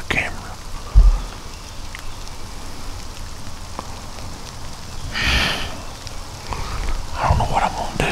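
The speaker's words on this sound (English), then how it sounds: "And now it's raining and I don't have a bag for the camera." Rain falls outdoors in Georgia woods during a turkey hunt, a steady faint patter on surfaces with a couple of louder close knocks and rustles.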